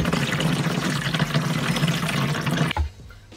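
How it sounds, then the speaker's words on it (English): Water drains from a sink in a small camper van, running down a U-bend and through a pipe into a waste tank. A steady rushing, gurgling flow stays close by, then stops near the end with a soft thump. "from the sink, the water travels down a U-bend through this pipe and into our waste tank"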